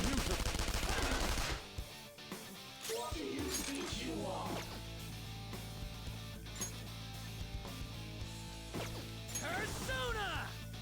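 Gunfire in the role-playing game Persona 5 Royal, made up of quick sharp shots and bursts over steady background music and game effects, with a voice speaking at times.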